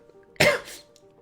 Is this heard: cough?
yes